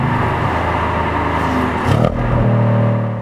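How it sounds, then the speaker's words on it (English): A 2018 Audi S6 exhaust drones steadily at a low rumble, then shifts tone with a brief surge as the valves open, the note becoming fuller and deeper. It is heard close, with no talk. "And you can hear the change in the exhaust tone, like closed, closed, open."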